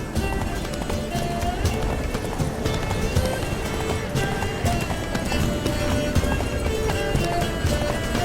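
Horse galloping in The Witcher 3: Wild Hunt, Blood and Wine, rapid rhythmic hoofbeats running continuously and close, with a voice speaking over them.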